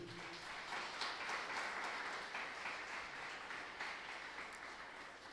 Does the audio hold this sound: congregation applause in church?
yes